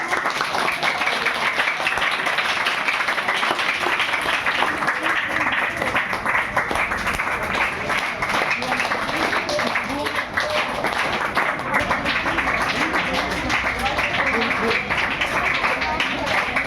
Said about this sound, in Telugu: క్లాప్స్ కొట్టండి అమ్మా.